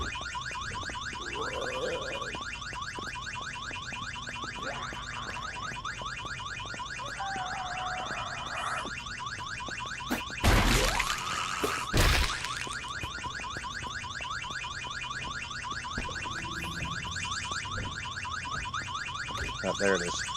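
A car alarm in the Project Zomboid video game wails steadily, looping its repeating pattern for the whole stretch, with a couple of brief louder thumps partway through.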